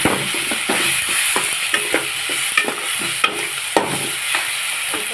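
Spices sizzle with cut potatoes and green tomatoes in a pan, a steady loud frying hiss broken by regular scraping clicks of a spatula stirring throughout.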